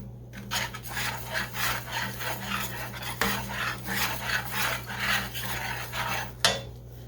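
Food being stirred in a pan while cooking pork chops with savory mushroom gravy: a steady, close rasping and scraping of a utensil against the pan in repeated strokes, with a faint constant hum underneath and no talking.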